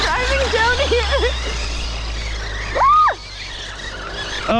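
A Team Associated Rival MT10 RC truck races around a backyard track, its electric motor whining up and down with brief loud revving bursts and tire skids, while people talk and laugh nearby.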